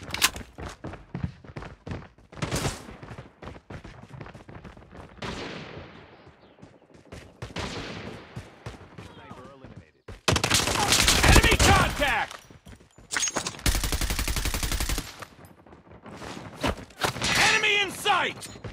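Gunfire in a Call of Duty Mobile team deathmatch: bursts of single shots and sustained automatic fire, loud and close, with gaps between volleys and voices calling out amid the shooting.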